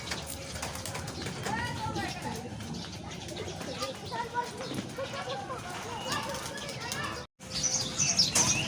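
Pigeons flutter and flap their wings amid soft cooing, while a person calls and talks nearby; a brief cut near the end.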